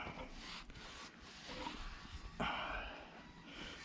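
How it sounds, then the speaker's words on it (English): Flywheel internals of a 1940s Johnson Seahorse KD15 outboard boat motor being cleaned by hand, giving soft, faint, irregular rubbing and scraping strokes with short pauses between them and one brief louder brushing burst. "Clean out our flywheel internals here."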